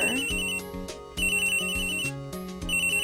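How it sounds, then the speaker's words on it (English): A phone ringtone from the Phoenix Wright: Ace Attorney video game repeats a bright electronic melody several times in a steady pattern, loud and clear, with no talking over it. "answer your phone. It's so loud."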